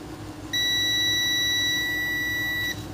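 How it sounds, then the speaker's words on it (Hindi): A multimeter's continuity tester gives a steady, single electronic beep for about two seconds while its probes check a coil (inductor) on an ECM circuit board during repair. The tone is clear and prominent against a quiet background. "तो ये बीप की आवाज़ आनी चाहिए ये कॉयल है"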